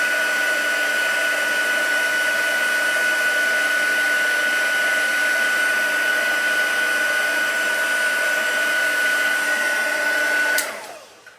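Heat tool melting embossing powder for a stamped post-it note holder, a steady loud whirring blow with a high whine, running continuously and then switching off near the end.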